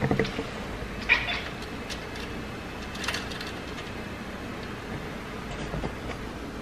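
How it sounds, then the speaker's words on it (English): A cat meows at birds outside, a couple of brief mid-loud calls standing out over steady background noise. "the cat's freaking chasing birds outside and she's fucking meowing at them"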